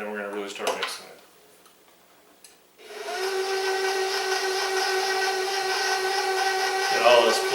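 Electric mixer beating blueberry coffee cake batter, a steady high whirring drone that starts after a few seconds of quieter kitchen sound and runs loud and continuous, with a short dip near the end.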